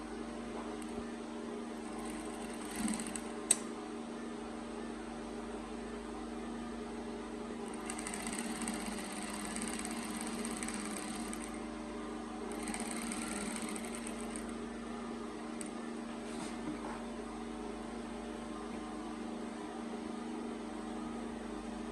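A sewing machine stitches a side pocket onto joggers in two short bursts of fast mechanical whirring, close up over a quiet background hum.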